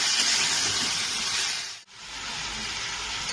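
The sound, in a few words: potatoes frying in a pan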